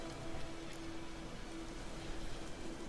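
Rain falls steadily in the video game Witcher 3: Wild Hunt, a soft, even hiss of drops on surfaces with faint tonal hum beneath, quiet and continuous.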